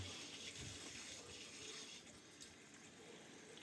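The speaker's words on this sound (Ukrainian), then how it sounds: "Ось, пішла вода." Water flows steadily from an opened tap into an underfloor heating manifold, a soft continuous hiss and gush that carries on throughout without talk.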